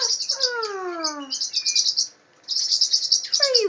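Pet canaries and parrotlets chirping indoors, with bright rapid tweets and descending whistled calls overlapping almost without a break, close and fairly loud, with a short lull midway.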